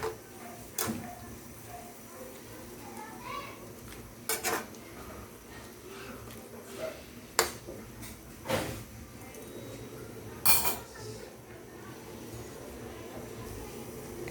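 Pork and string beans for adobong sitaw get stirred in a pan, with scattered clinks and scrapes of a utensil against metal at irregular moments over a quiet kitchen background.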